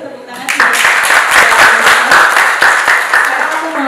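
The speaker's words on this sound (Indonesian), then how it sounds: "Boleh tepuk tangan sih" Audience applauding at the Olahrasa 2023 launch event, loud sustained clapping with distinct individual hand strikes that starts abruptly and carries on evenly, with some voices mixed in.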